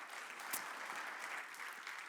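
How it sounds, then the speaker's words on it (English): A conference audience gives one more round of applause. The clapping is dense and steady but fairly quiet, heard from a distance. "One more applause,"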